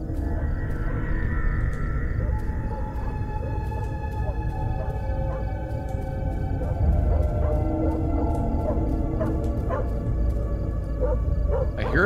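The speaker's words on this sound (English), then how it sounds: "Dog barking." Dog barking in the horror video game Fears to Fathom, sharp repeated barks and yips standing out over a steady, dense background hum.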